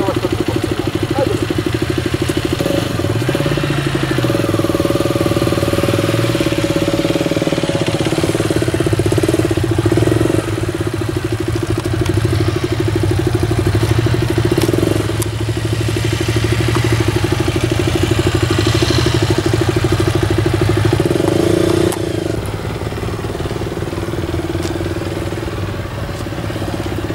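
A motorcycle engine runs steadily throughout a closed-area riding technique course, its mid-pitched drone rising and falling slightly as the bike slows and maneuvers, fairly close and loud with no talk over it.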